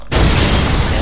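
Explosion in the horror video game Resident Evil 7, a sudden loud burst after a brief silence, followed by a sustained rumbling roar that fills the remainder of the moment.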